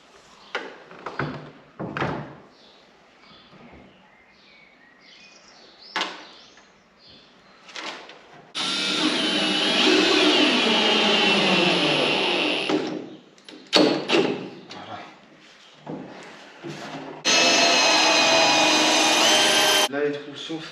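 A power drill bores holes in the body of a Peugeot 406 for fitting a spoiler, with two long, loud whining bursts between shorter clicks and handling noises.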